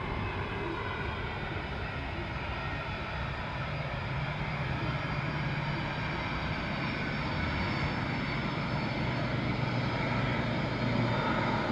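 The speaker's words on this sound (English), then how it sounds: "This is our third United flight of the day." A United Airlines jet arriving at Dublin Airport roars steadily, its engine noise a loud, continuous rumble with a broad hiss that swells slightly toward the end, heard from a nearby spotting position without talk.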